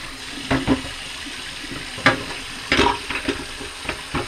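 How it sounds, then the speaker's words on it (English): A car engine piston from a 400ci Chevy gets rinsed under running water in a home sink. Water splashes and gurgles in short irregular bursts close to the mic, and no one speaks. "I just do my final wash of piston right here in my sink"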